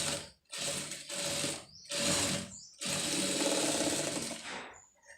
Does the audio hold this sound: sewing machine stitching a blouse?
yes